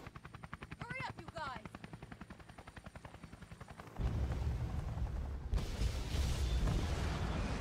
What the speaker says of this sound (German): Ja, noch ein Heli.